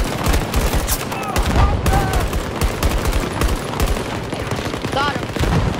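Rapid gunfire crackles through a Battlefield 2042 firefight, with short bursts and scattered shots stacking densely over continuous battle noise, loud and close throughout with no voices.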